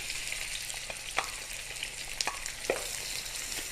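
Onions fry in 1½ tablespoons of cooking oil in a pan, a steady soft sizzle with occasional small crackles and pops, faint and close, with no voices.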